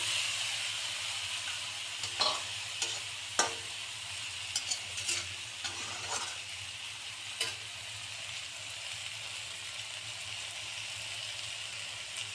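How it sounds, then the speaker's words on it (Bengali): Fried foli fish is stirred into a sizzling masala with brinjal, irregular spoon scrapes and knocks clustered early over a soft, continuous frying hiss that carries on alone afterward. "ভাজা মাছগুলোকে দিয়ে দিলাম।"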